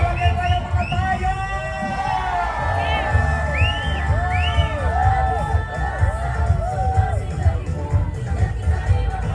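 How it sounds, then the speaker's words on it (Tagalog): A large street crowd at the Araw ng Pasig 2026 grand civic parade in Pasig, Philippines, cheers and whoops loudly and steadily, with children's shouts and whistle-like calls rising over a dense babble of voices throughout. "Barangay San Jose sa Malakas na Hiyawan!"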